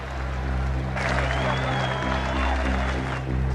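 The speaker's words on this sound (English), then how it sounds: "great applause from the pro-Australian crowd" A cricket crowd at the Adelaide Oval applauds in a sustained wash of distant clapping and crowd noise over a low steady hum, with a faint whistle-like tone running through the middle.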